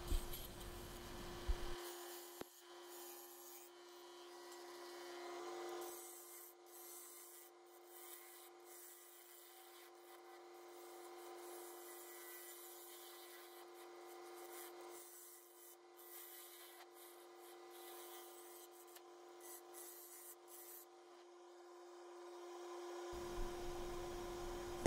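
A bowl gouge cuts a very dry, dense walnut bowl spinning on a lathe, giving a faint, continuous scraping rub with small fluctuations, heard distantly over a steady high whine and low background.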